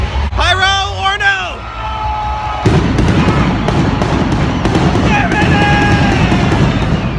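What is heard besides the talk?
pyrotechnics at a WWE SmackDown wrestler entrance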